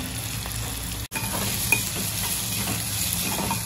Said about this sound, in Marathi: आपलं तेल मस्त गरम झालंय, आता याच्यात आपण कांदा टाकून घेऊ आणि कांदा टाकून मस्त आपण आता शिजवून घेणार आहोत